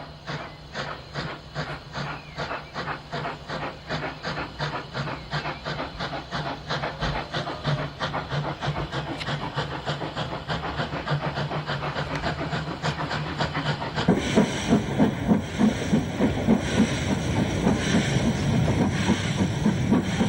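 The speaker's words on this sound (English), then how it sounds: "A former London Brighton South Coast Railway 464 tank, number B327, leaves the station with the 2 o'clock Saturdays only for Brighton." A former London Brighton & South Coast Railway 464 tank steam locomotive, number B327, pulls out of London Bridge station with a steady rhythmic chuff and hiss that grows louder and rougher partway through.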